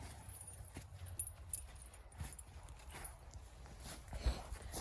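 Faint clip-clop of a pregnant mare's hooves with occasional jangling, steady and low in the background without talk.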